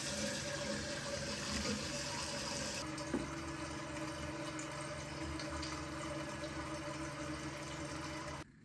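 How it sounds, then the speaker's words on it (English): Toilet tank refilling steadily after the water supply is turned back on following a flush valve replacement, a continuous close rush of running water with a faint mechanical hum and a brief knock partway through. "now you turn your water supply back on"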